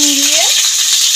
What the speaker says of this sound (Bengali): পটলগুলো একটুখানি ভেজে নেব